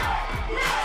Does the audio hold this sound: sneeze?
no